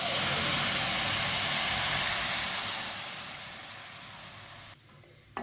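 Milk poured into roasted vermicelli in a hot pan, a loud hissing sizzle that bursts at once and slowly fades as the pan cools, ending with a brief clatter.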